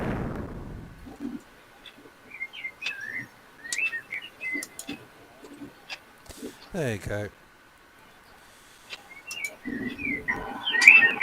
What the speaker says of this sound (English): I can hear birds in the background. Yep, outside my window.